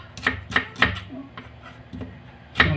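Onion sliced with a knife on a board for talakitok fish soup: a few sharp, spaced chopping knocks, close and fairly loud, with brief handling sounds between them and no talking.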